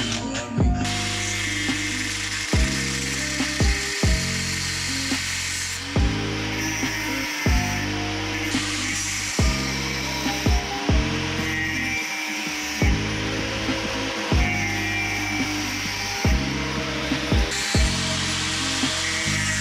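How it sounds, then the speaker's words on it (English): A drill bores through a steel turbo manifold flange for a Miata in a home workshop, giving loud, whining drilling runs that start and stop in repeated bursts roughly every second or two. "so we can go ahead and drill this all out and angle grinder it out"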